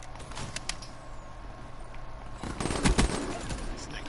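Bursts of P06 gunfire in a video game crackle in quick volleys over a constant low engine-like rumble, growing louder and denser toward the end.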